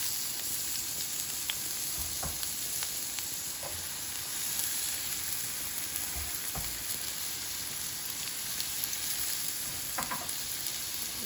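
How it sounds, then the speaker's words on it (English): Garlic and white onions sauté in a pan with a steady, close sizzling hiss and occasional light crackles and stirring clicks throughout, with no talk. "I'm going to saute my garlic. And then I will add the"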